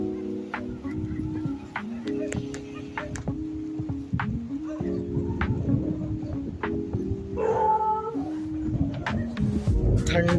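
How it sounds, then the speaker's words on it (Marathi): Dogs bark on Saldure Beach at Harnai, Dapoli, at night: sharp, scattered barks carry over a steady droning hum and background murmur that continue throughout. "आणि कुत्र्यांची भुंकाभुंक पण ऐकायला येते बीच वरची."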